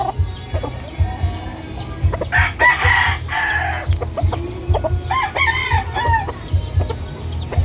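A yellow-legged fighting rooster crows twice in loud, drawn-out calls in Tanza, Cavite, with hens clucking and other farmyard birds chattering close by throughout.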